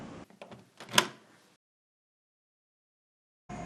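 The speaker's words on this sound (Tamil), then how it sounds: "கதவையா திறந்து விடு." A door is opened in a Tamil thriller short film: a cluster of knocks and handling sounds leads into a sharper click or clunk, then a short fading tail, followed by silence and a brief return of room sound near the end.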